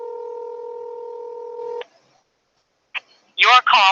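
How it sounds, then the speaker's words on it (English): A phone line plays a steady two-tone ringback for nearly two seconds, then goes silent. Short beeps and brief voice-like bursts from the call follow near the end. "We're ringing."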